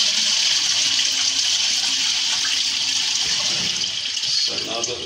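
A toilet is flushed with the water supply being shut off during a pan seal wax replacement, giving a loud, close rush of water that tapers toward the end, with brief voices near the finish.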